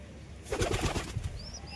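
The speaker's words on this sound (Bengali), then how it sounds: "পায়রাগুলোকে এবার দেখো জলটা দিয়ে দিলাম পায়রাগুলো জলটা খাচ্ছে" Soft, low pigeon cooing close by, a short burst of throaty murmurs with a faint higher chirp near the end.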